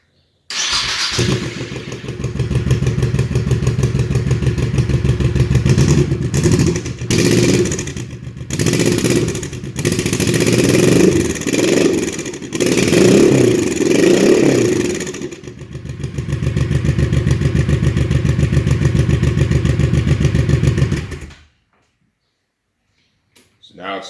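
A 2005 Honda VT1100C2 Sabre motorcycle with a hole-sawed stock exhaust and rejetted carburetion cold starts without choke, cranking and catching, then idling and revving unevenly with rattly exhaust, loud and close, before cutting off abruptly.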